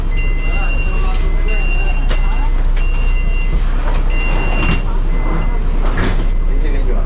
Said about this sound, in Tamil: ரெண்டு சைடும் பார்த்தீங்கன்னா டோர் க்ளோஸ் பண்ணிட்டாங்க, வண்டி மூவ் ஆக ஆரம்பிச்சாச்சு.